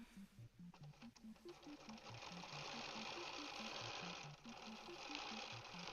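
A Bernina 790 Pro sewing machine runs steadily while free-motion quilting, its rapid needle clatter continuous and close for the whole stretch, with a faint rhythmic thumping pattern underneath.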